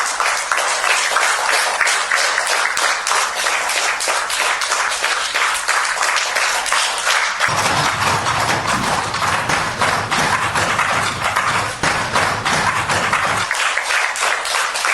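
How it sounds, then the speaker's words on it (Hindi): Dense, continuous applause fills a cabinet meeting honoring Prime Minister Narendra Modi, with a stretch of low, rapid table thumping joining the clapping midway. "तो तालियां बजाकर, मेज थपथपाकर प्रधानमंत्री नरेंद्र मोदी के इस पूरे कार्यकाल को देखिए किस तरह से अभिनंदन हो रहा है।"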